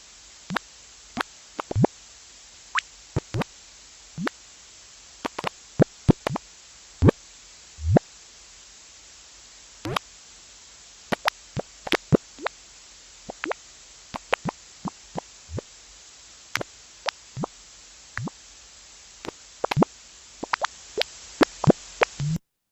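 A sonification of gravitational waves from space sounds like scattered sharp clicks and pops over a faint hiss, irregular and sparse throughout, with no talking.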